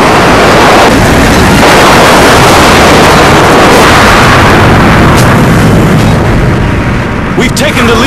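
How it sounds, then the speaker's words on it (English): Heavy, continuous rumbling blasts from an airstrike in Modern Warfare 2 on the Karachi map, loud and dense throughout, with broadband booms rolling into one another and a sharper crackle near the end. "Friendly airstrike inbound."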